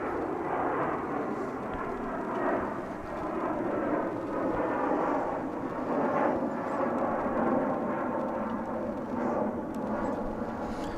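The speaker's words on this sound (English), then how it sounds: "now that we're getting some takeoffs, we may turn our attention to those instead of landings for the time being" Jet airliners taking off at DFW International Airport, a loud, continuous roar heard from a distance that swells and fades slightly across the stretch, with no talking over it.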